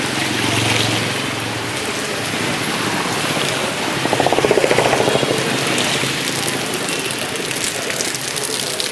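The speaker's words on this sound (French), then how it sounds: "Ça dure pas longtemps, c'est une grosse pluie." Heavy rain pouring down in Nepal during a sunset ceremony just after a downpour, a steady broadband hiss throughout with a brief swell midway and a low rumble underneath.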